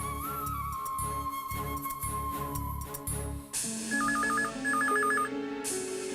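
A telephone rings loudly in a tense domestic drama scene, its bell tone repeating in bursts over background music, with a shift to a trilling electronic ringtone pattern partway through.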